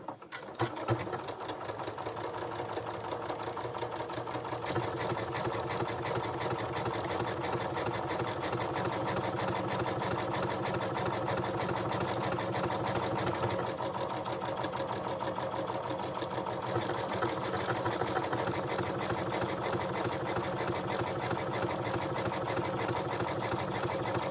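A sewing machine stitches a buttonhole in dress fabric, a close, fast, steady mechanical whirring chatter that runs almost without a break, alone with no voices.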